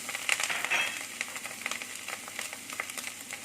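Sugar, seasoning powder and pepper being stirred in a frying pan with garlic make a soft sizzle broken by repeated scraping and tapping of the spatula, close and steady.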